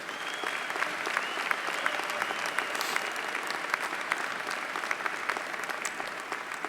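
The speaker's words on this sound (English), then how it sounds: "Let's have a round of applause for them." A commencement crowd applauds for armed forces members, dense even clapping from many hands sustained throughout, somewhat distant and steady.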